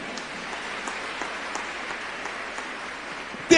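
A church congregation applauds during a sermon, a faint, steady, distant patter of many hands clapping that continues evenly with no talk over it.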